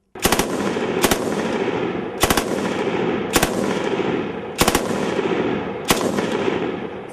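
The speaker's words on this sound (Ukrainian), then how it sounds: "Так стріляє кулемет Форт 401." A Fort 401 machine gun fires in short, loud bursts about a second apart, each burst a rapid rattle of shots echoing outdoors at a firing range.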